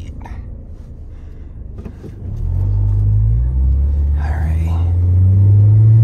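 A Scion xB with a faulty shifting transmission drives off, its low engine rumble swelling into a steady, louder drone inside the cabin, with a brief spoken remark near the start.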